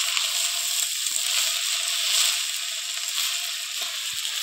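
Chopped taro leaves sizzling in a pan over a clay stove: a steady, bright hiss holds throughout at moderate volume, broken by a few soft low knocks.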